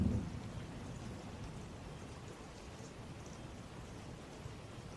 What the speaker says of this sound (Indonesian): Hari itu sedang hujan badai.